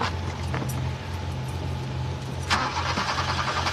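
A car engine starts up in a 1988 German crime drama scene, a steady running engine with a sharp catch and rise partway through, loud and close with no speech over it.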